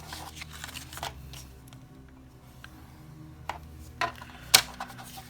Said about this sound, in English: bring the Teflon bone folder back in to set that crease